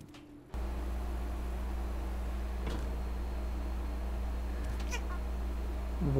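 In the video game Stray, a cat lets out a few faint, drawn-out dramatic meows over a constant loud hum and hiss.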